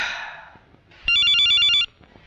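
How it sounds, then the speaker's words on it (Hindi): A telephone rings with a single electronic trill lasting under a second, loud and close, heard alone after a fading background sound in an indoor scene. "ये किसका फोन आ गया?"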